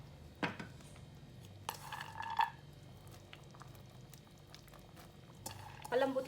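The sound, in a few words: turkey soup boiling in a pot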